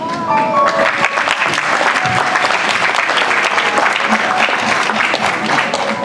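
A church congregation at an apostle's ordination applauds loudly and steadily throughout, a dense wash of clapping with voices mixed in and someone speaking over it.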